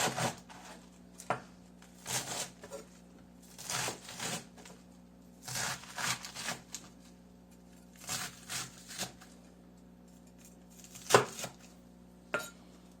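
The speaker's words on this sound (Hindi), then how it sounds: "सबसे पहले हम इन चीज़ों को काट लेते हैं।" Knife chopping iceberg lettuce and other salad vegetables for a Greek salad on a cutting board, in irregular bursts of quick crisp cuts separated by short pauses, close and clear with no talking.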